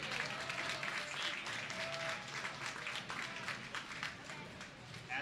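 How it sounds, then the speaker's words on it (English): A track-meet audience at an indoor invitational gives the athletes a sustained round of applause, dense and steady for the whole stretch, with faint voices mixed into the clapping. "athletes off with a big round of applause this morning"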